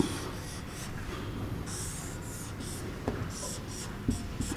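Marker scratching across a board during an electrical engineering lecture on rotating machines, in short repeated strokes, close and moderately faint, with a few soft taps.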